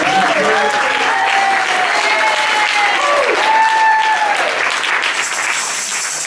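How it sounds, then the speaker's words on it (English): Community gathering audience applauding a childcare volunteer, loud sustained clapping throughout with cheering voices and a few whoops mixed in. "Let's give her a round of applause."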